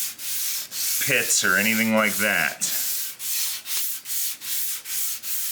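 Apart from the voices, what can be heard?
sanding with 400 grit sandpaper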